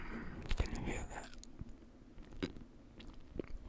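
Bread bitten and chewed close to the microphone in an ASMR setting, soft crunchy bites followed by moist chewing at a slow, irregular pace, quiet and intimate.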